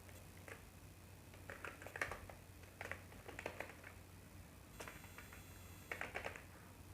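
Keys clack on a computer keyboard as a name is entered into an online admission form, short uneven bursts of light taps with pauses between them, fairly quiet.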